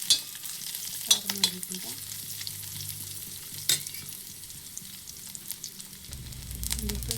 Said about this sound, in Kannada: ಎಣ್ಣೆ ಹಾಕ್ಕೊಬಿಡೋಣ. ಚೆನ್ನಾಗಿ ಬರೋಬರ ಎಲ್ಲ ಹುರ್ಕೊಂಡು